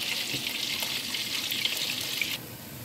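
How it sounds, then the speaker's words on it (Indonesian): Fish frying in a pan on a nearby stove gives a steady, loud hiss and sizzle that runs unbroken, then drops to a softer level near the end. "berisik suara gorengan karena sebelahnya saya sedang menggoreng ikan"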